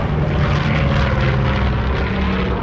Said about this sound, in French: C'est un avion qui vole vite, qui vole haut,